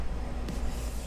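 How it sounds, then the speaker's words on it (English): Steady broadband hum of a motel room air conditioner running indoors, a constant low drone with a faint rushing hiss and no voices. "Sorry for the noise of the air conditioning."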